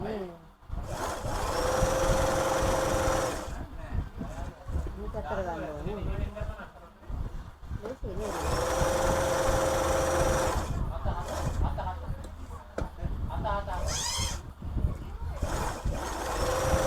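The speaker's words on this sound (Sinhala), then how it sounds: "මේකෙන් බොත්තම් කාස 6ම මහන්න පුළුවන්" A sewing machine stitches buttonholes in long, loud whirring runs with a brief slowdown between them, close by, while a person talks over the steady mechanical hum.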